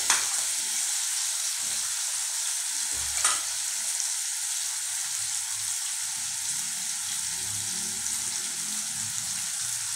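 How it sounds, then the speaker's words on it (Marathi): Cabbage bhaji mixture sizzles in a pan while being stir-fried, a steady crackling fry with a few scraping stirs near the start, no talking. "सर्व मिश्रण व्यवस्थित परतू द्यायचे."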